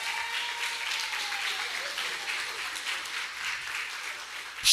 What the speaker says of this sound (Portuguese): Gente, vamos dar uma salva de palmas para essa galera.